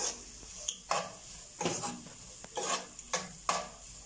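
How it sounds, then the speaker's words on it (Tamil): Onions being stirred and sautéed in a pan for chicken gravy, with about seven distinct scraping strokes of a spoon against the pan over a faint sizzle, close up and with no talking. "இப்போ நல்லா வதக்கி விட்டுக்கலாம்."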